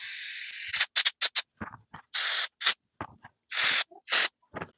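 Short squirts of parts cleaner sprayed onto spark plugs from a Ford 8N tractor, a run of close, sharp hissing bursts of uneven length with brief gaps, some quick and clipped, others longer and sustained.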